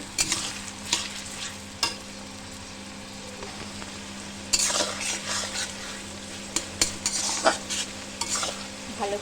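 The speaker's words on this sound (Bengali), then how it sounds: "টমেটোটা পেঁয়াজের সাথে সুন্দরভাবে ভাজা ভাজা হয়ে যাবে" Onions and tomatoes frying in a pan for a mutton dish, a quiet constant sizzle under repeated scraping strokes of a spoon stirring against the metal, some strokes louder and closer than others.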